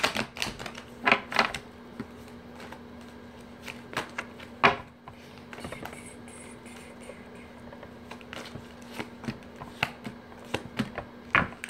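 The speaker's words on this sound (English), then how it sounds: "One last shuffle here." Rapid clusters of papery riffling and soft taps, like cards being shuffled, coming in uneven bursts close up with a faint steady hum behind.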